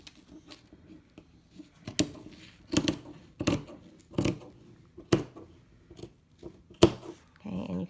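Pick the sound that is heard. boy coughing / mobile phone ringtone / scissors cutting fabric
scissors cutting fabric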